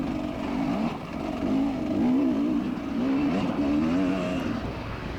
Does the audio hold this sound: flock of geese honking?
no